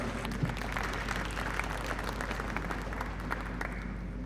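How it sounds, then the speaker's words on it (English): An audience at a space conference gives a big round of applause, steady dense clapping over a constant low hum, sustained at even loudness from start to finish. "I think they deserve a big applause."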